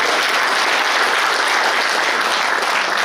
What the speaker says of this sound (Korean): 큰 박수 한번 해주십시오